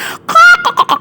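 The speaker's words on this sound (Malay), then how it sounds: "Dia dengar bunyi ayam berkokok" A rooster crows in a short, loud, close call with a strained, wavering tone that breaks into choppy bursts. It is heard alone.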